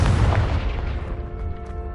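A Confringo spell explodes in the Hogwarts Legacy video game with a loud, close, booming blast that rumbles and decays over two seconds.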